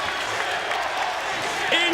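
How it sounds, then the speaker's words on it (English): A wrestling arena crowd roars and applauds in a steady, dense wash of cheering after a moonsault off a six-sided steel cage, with voices calling over it. "Look at the crowd."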